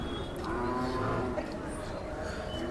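A Khillar bull moos low and drawn out at a busy cattle market, heard faintly over a steady crowd murmur and background chatter.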